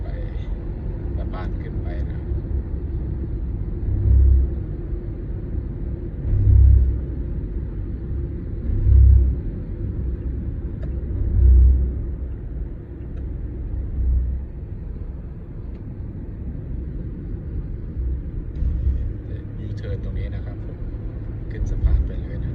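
Car driving along a road toward Suvarnabhumi airport, a steady low engine and road rumble with periodic swells, under someone talking in Thai.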